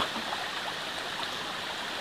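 A stream flowing near Gaway Gaway Falls in Burias, Masbate, a steady broad rushing and gurgling of water, close and continuous with no voices.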